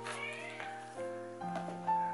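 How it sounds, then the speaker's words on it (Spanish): A cat meows indoors in several drawn-out, tonal calls, each rising and falling, fairly close and moderately quiet. "Acabas de escuchar a mi gatita, Misha."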